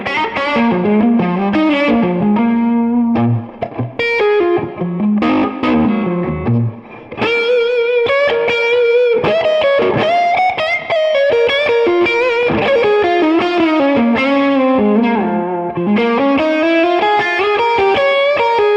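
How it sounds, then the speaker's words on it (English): A semi-hollow electric guitar played through its neck pickup with an overdriven tone, steady chords and melodic lines ringing loud and close with effects and a touch of chorus, alone without talk. "Let's hear the neck pickup on that slightly more overdriven tone."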